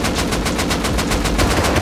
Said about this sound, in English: Shoot that out. Shoot the bed out, quick.